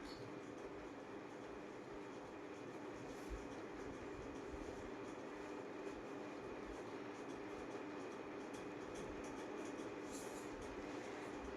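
A train rolls past a railway crossing, its steady broadband rumble of wheels and carriages continuous and loud throughout, with faint rail clatter layered on top and no voices.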